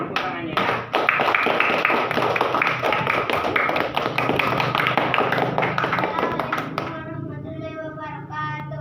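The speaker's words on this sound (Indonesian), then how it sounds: "untuk kelompok 4 yang tepuk tangannya ya" A class of students claps for the fourth group in a school classroom, a loud, steady burst of applause from many hands that runs for several seconds and then stops, leaving a voice talking.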